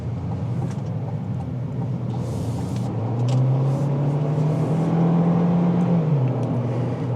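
A 2026 GMC Terrain AT4 AWD with its 1.5-liter turbo engine drones along from inside the cabin, road noise steady as the engine note climbs under acceleration, holds, then drops back.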